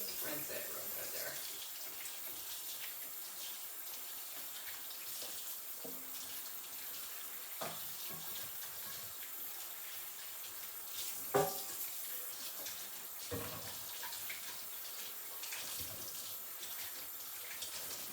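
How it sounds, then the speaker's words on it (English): Running tap water rinses freshly picked garden tomatoes, a steady moderate stream splashing under the fruit with a few brief knocks and clunks, while people talk nearby. "Just rinse it real good there."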